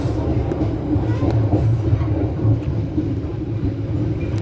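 Riding aboard the KA Gumarang passenger train as it passes Cipinang depot in Indonesia, a loud, steady rumble of wheels and carriage fills the whole stretch, with faint rhythmic clicks under it and no talk.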